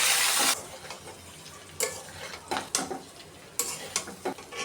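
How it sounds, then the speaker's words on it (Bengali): Teasel gourd, potato, onion and green chili frying in a pan: a loud sizzle at the start fades, then sporadic spatula scrapes and clinks against the pan recur during stirring, with no speech. "আলু আর কাঁকরোল দিয়ে দিলাম, পেঁয়াজ কাঁচামরিচ দিয়ে দিলাম, পরিমাণ মতো লবণ দিয়ে দিলাম। এখন আমি সুন্দর করে ভাজি করব।"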